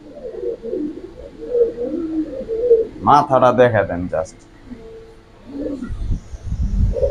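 A large Pakistani high-flyer pigeon, a Giribaz, gives a short run of deep, throaty cooing at close range between stretches of someone talking in a market setting.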